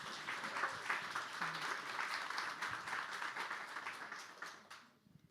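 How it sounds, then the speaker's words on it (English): Sustained applause from an in-person audience at a general assembly meeting, dense steady clapping throughout that thins and fades out near the end. "I think you all deserve a really big round of applause"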